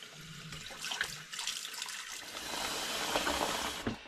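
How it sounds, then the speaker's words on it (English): Steady running tepid water pours and splashes into a pan holding a mushroom growing kit for several seconds, a continuous broadband rush with small gurgling surges near the end. "I'm going to put some water in the pan like before"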